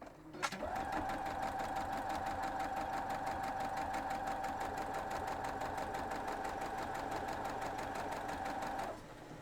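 A sewing machine stitches pieces of a Santa's belt quilt block, starting with a click and then running in one steady, unbroken hum for about eight and a half seconds with no voices over it.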